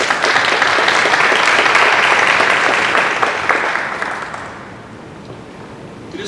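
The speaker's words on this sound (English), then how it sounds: "Let's give them a round of applause." Audience applause at an athletic hall of fame and alumni awards ceremony, a loud full round of clapping that holds steady and then fades away toward quiet near the end.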